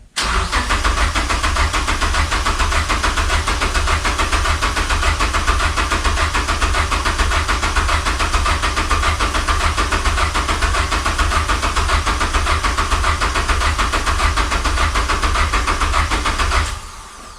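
A Ford Sierra Sapphire engine cranks on the starter for a long stretch without firing, a loud, fast, even churning that runs unbroken for about sixteen seconds before cutting off.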